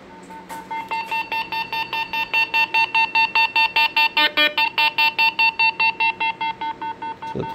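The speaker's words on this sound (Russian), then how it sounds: "Отходим, сигнал меньше становится." A Noyafa NF-5130 pipe blockage detector sends out a loud, steady run of rapid, evenly spaced electronic beeps, each short and high-pitched, repeating without a break.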